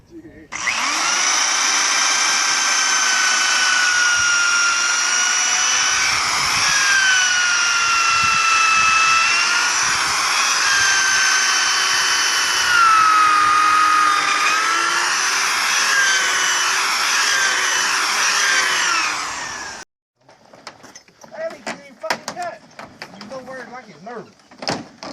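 A power drill with a sharp 1/2-inch bit bores steadily through steel and wood while building a deck, loud and close with a whining, shifting pitch for about twenty seconds. It stops abruptly, followed by clattering handling noises.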